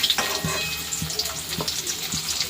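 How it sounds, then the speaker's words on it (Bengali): Cut paneer pieces frying in a pan in a small home kitchen, a steady close sizzle broken by soft periodic taps and scrapes roughly every half second as the pieces are moved. "এখানে পনির ভাজা করে নিচ্ছি"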